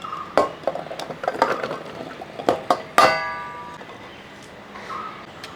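Cut vegetables for a cucumber curry drop into a small metal pressure cooker, giving a series of sharp clanks and rings, one louder ringing clang midway, then quiet handling noise.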